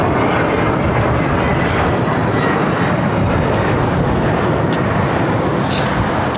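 An Airbus A380 arriving at LAX from Seoul, its broad steady engine roar filling the air loud and continuous, with a few faint higher clicks over the rumble.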